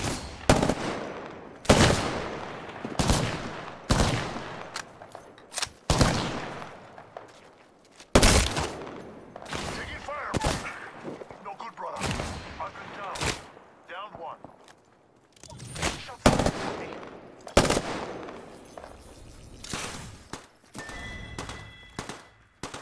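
Gunfire in Apex Legends, with repeated sharp shots and short bursts spread across the span, some loud and close, others fainter, with voices talking in between.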